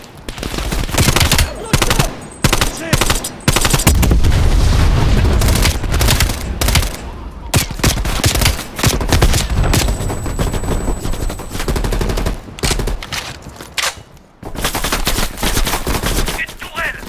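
Heavy, sustained turret gunfire in Call of Duty Black Ops Cold War, loud continuous bursts with booming impacts rolling on for the whole stretch, dense and close.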